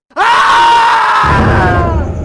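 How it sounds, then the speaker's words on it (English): Long, loud, blood-curdling scream from inside a house, held steady and piercing for about two seconds before a noisy rumble rises underneath it. "A blood-curdling scream rang out from inside the house."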